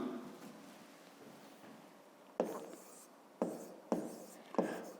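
Handwriting on paper during a grade 5 maths exercise, a soft continuous scratching of pen strokes with several sharper tapping strokes near the end, close and quiet.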